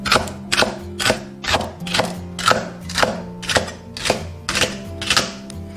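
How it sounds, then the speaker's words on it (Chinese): A kitchen knife chops washed mustard green stems on a cutting board, ten or so loud, evenly spaced thuds roughly every half second, close and alone without speech. "洗干净过后，切刀切断"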